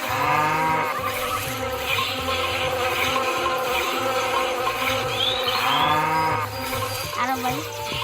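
A cow moos repeatedly in a mobile farming game, the drawn-out lowing calls looping over busy game music and buzzing insect-like effects, loud and close throughout.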